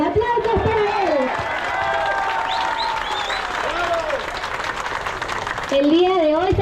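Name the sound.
audience applause welcoming mayor Franco Vidal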